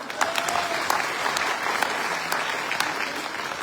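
A seated audience at a business meeting in Punjab breaks into steady, dense applause for Ritesh sir, a continuous wash of many hands clapping, moderately loud and fairly close, with no talk over it.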